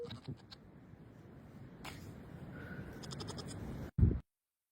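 Goats bleating outdoors: faint, scattered bleats over steady background noise, ending in a short, louder close bleat.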